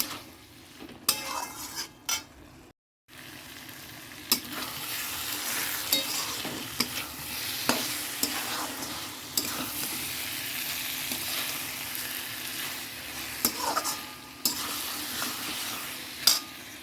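Tomatoes and potatoes sizzling in a pan as they are stirred, with a continuous frying hiss and frequent scraping and clanking of a utensil against the metal.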